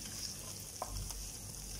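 Ginger and roasting lentils stirred in a pan over a low flame, a faint steady sizzle with one brief scrape of the spoon.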